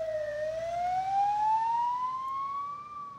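An ambulance siren wails in a slow rising tone during a wildfire evacuation of hospital and care-home patients in Greece, moderately distant and steady with no talk over it.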